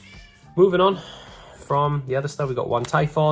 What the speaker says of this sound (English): I apologize for my cat, he is very excited for Battlin boxes.